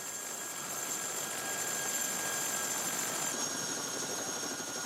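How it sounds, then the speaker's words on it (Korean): A helicopter hovers just above floating sea ice near the Bering Strait, its rotor and engine a constant dense whine and roar with steady high tones, unbroken and moderately distant, no voices. "헬기 바퀴가 얼음판에 닿을 듯 말 듯 떠 있는 5분 동안 모든 짐을 내려야 한다"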